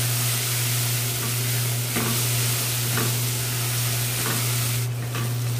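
Onion, garlic and bacon fry together in a pan. A constant hiss of frying runs throughout, with a few stirring scrapes at regular intervals and a low steady hum underneath. No voices are heard.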